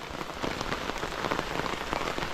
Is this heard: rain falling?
yes